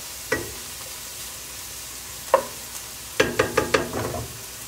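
Black-eyed peas frying in a pan, with a low sizzle under a few sharp spoon taps and stirring clinks, close and alone.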